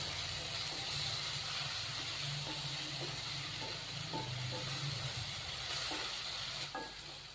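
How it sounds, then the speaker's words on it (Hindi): Spices frying in a pan with a little water for a chicken sandwich masala, a steady loud sizzle with soft stirring scrapes and taps repeating at intervals. "मसालों को हमने 1 से 2 मिनट के लिए अच्छी तरह फ्राई कर लिया।"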